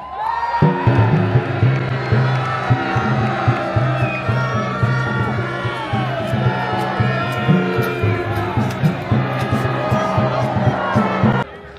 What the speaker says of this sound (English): He is the radiant knight of Constantinople, cheer for Solution!